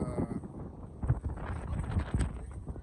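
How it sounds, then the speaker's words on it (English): Gusting wind buffets the microphone, a steady low rumble with brief louder bursts and no clear voices. "done got windy all of a sudden."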